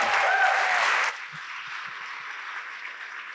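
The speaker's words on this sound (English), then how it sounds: "Give a round of applause." Audience applause at a live event, a dense burst of clapping for about a second that drops to a softer, steady wash of hands and crowd noise.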